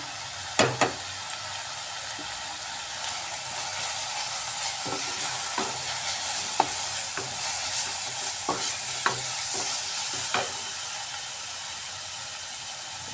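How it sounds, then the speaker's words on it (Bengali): Ground spices hit hot oil for egg tikka masala, giving a steady bright sizzling hiss broken by scattered sharp scrapes and taps of a spoon stirring nearby; no voices. "এবার যে গুঁড়া মশলাগুলো রেখেছিলাম তেলতে এগুলো আমি দিয়ে দিচ্ছি"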